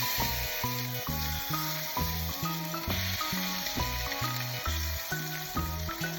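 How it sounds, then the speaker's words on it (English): Short ribs sear in ghee in a high-heat pan, giving a steady close sizzle that runs beneath rhythmic background music. "I added a pad of ghee to a high heat pan and seared the short ribs on all sides"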